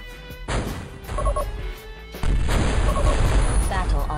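An orbital cannon strike in the strategy game Metal Fatigue lands as heavy, deep booms, one near the half-second mark and a louder rumbling blast about two seconds in, with crashing debris over a continuous low roar.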